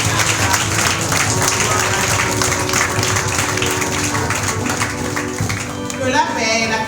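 A church congregation claps and acclaims the king, steady dense applause mixed with voices and music throughout, close and loud, with speech rising near the end.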